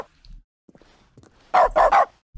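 A dog barks three times in quick, loud succession after a stretch of near silence broken by a few faint scuffs.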